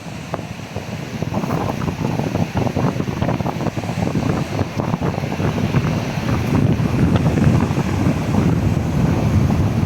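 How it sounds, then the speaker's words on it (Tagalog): Strong wind roars steadily into the microphone at the sea off Corimao, buffeting it with constant low rumble, and rough water churns beneath it; no one speaks. "Ang lakas pati ng hangin."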